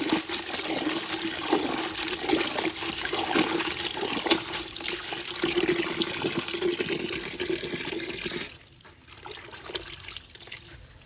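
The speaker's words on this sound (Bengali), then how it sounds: "শাকগুলো ধোয়া হয়ে গেছে" Tap water runs steadily in a strong, close rush while mustard greens are washed in a kitchen, then cuts off and leaves quieter dribbles and small splashes.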